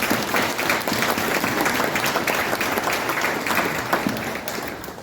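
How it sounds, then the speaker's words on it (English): An audience gives another round of applause after a speaker shares a personal story at a First Fridays gathering, a full, continuous wash of clapping from many people that stays even and gradually softens near the end. "let's give another round of applause for it."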